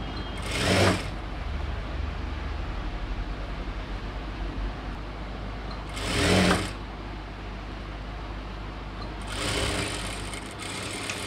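An electric sewing machine runs double stitching on a chudidhar top in three short bursts, a rapid mechanical whir that stops between runs over a steady background hiss.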